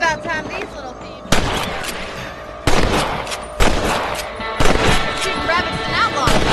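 Rifle gunfire while hunting rabbits in the Wild West video game Red Dead Redemption: several sharp, loud shots at irregular intervals of about a second, each ringing out briefly over a continuous game soundscape.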